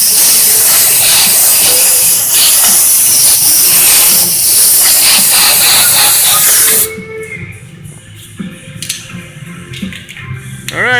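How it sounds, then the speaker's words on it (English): A loud, continuous hiss of compressed air from a blower clears soap and water out of a Kenworth truck's air bag suspension, then cuts off abruptly, leaving quieter clanks and faint squeaks. "take that illegal air blower again. You want to blow all that soap and water out of there"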